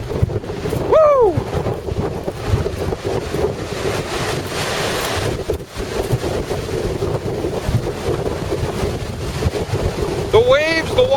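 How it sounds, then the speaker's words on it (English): Howling wind buffets the microphone as big, abnormally high waves roar onto Park Point Beach in Duluth on Christmas Day, a loud, constant rush, with a voice whooping briefly near the start and end. "on Christmas Day 2009, and the winds are howling."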